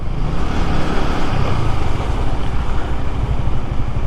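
Yamaha R15 V3 sport motorcycle, bought second-hand with the engine in good condition, riding on the road: a steady, continuous engine drone with dense low rumble and wind noise throughout, close and loud, with no talking.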